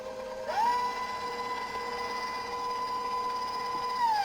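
A stand mixer on low speed beating red velvet cupcake batter spins up and holds a steady, close whine, then rises slightly at the end.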